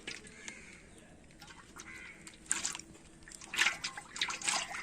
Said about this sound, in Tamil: இப்ப நறுமணமான நல்லெண்ணெயை ஊத்திடுவோம்.